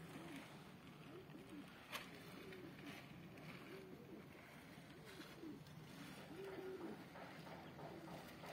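Pigeons coo softly in repeated low, rolling calls, faint and somewhat distant, over a quiet background hiss outdoors.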